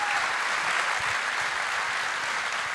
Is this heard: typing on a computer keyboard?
no